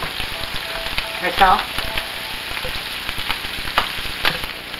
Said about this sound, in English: Turn your pan up high so they can brown pretty well.